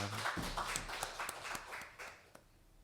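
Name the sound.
congregation applauding in church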